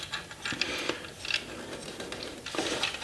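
A 10 mm socket wrench ratchets in quick clicking bursts while a bolt on a mid-frame air deflector is tightened, close and fairly quiet with no talk.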